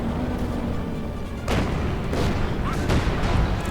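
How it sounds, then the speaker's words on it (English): Mortar shells fire and land in the World War II strategy game Company of Heroes 2: a few heavy booms over a busy battle ambience, with the loudest impact about midway through. "Now the Pioneers are getting absolutely murdered by the mortar."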